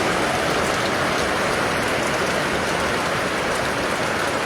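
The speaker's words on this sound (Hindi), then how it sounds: "बहुत ही शानदार बारिश हो रही है" Heavy rain pours down steadily in Fatehpur Shekhawati, a dense, constant hiss of drops on surfaces that fills the whole stretch without a break, loud and close, with no voices.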